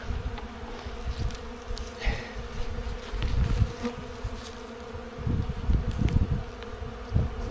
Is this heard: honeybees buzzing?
yes